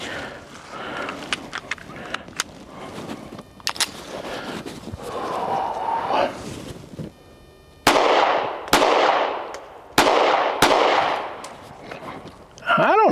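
Repeated sharp pistol shots from an HK CC9 handgun during a dot-torture shooting drill, spaced irregularly with louder, closely grouped reports toward the end.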